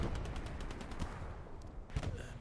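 Artillery shells landing on outpost positions during a large multiplayer battle at El Alamein, a dense continuous rumble of distant blasts and rapid gunfire crackle with a few sharper bursts.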